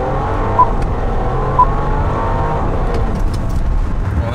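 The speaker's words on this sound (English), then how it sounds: "Well, that was 0-60. I've lost traction, bro. Four-wheel drive, Bentley SUV losing traction." An 800 hp four-wheel-drive Bentley Bentayga SUV accelerates hard from 0 to 60 while losing traction, heard from close by as a loud, sustained engine roar with road noise.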